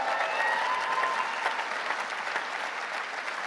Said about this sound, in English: big cheer for Jackie